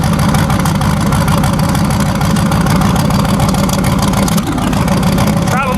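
A turbocharged 5.3 LS V8 truck engine runs steadily and loudly up close, a dense continuous low rumble with a faint rising whistle near the end.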